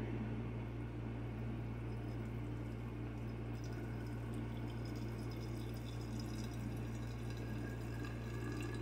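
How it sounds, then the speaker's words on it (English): Everclear alcohol is poured slowly into a jar of mullein leaves, a soft continuous trickle of liquid over a steady low hum, moderate and unbroken throughout. "carefully just slowly start pouring it in"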